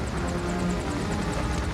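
Helicopter rotor and engine roar from an action film scene, a steady, loud, close drone that fills the whole moment with no voices over it.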